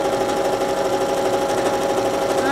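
Sewing machine stitching a quilt, a fast steady mechanical whirring drone that runs continuously and fairly close, with no talking over it.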